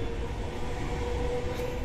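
Steady low rumble and hum inside a moving metro train car heading out from Paris, continuous and even with no voices.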